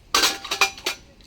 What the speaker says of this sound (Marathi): हळूहळू भांडी घेतल्यात